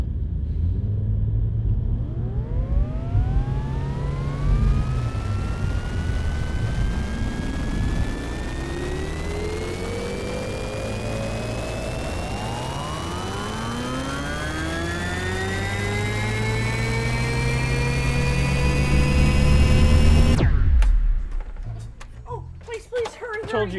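A jet propulsion system firing up, a loud roaring rush whose whining tones climb steadily in pitch for about twenty seconds before cutting off abruptly into jumbled noise.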